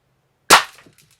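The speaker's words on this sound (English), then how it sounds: "We're going to try a couple more here just so you can see that this thing's actually shooting that fast." A Red Ryder BB gun fitted with an aftermarket spring kit fires a single sharp, loud crack with a short decaying tail, alone in otherwise near silence.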